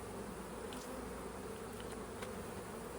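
Honeybees in a hive drone in a constant, faint, unbroken hum, with no voices over it.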